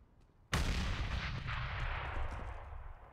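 Pistol gunfire in a Counter-Strike match: a single sharp shot bursts in after a short quiet stretch, and its ringing tail and overlapping report carry on for the rest of the moment.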